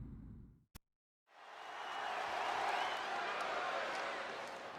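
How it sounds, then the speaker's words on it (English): A wrestling arena crowd in the WWE 2K22 video game roars and cheers loudly and continuously after a brief voice and a sharp click, the noise swelling and holding at full volume. "I can barely hear you, Michael. That's how loud this crowd is right now."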